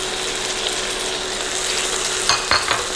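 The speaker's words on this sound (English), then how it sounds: "we're going to give this a good mix" Enchilada sauce and crushed tomatoes being stirred in a hot pan for chicken enchiladas, a steady low sizzle with soft scraping and a few sharper utensil clinks near the end, no talking.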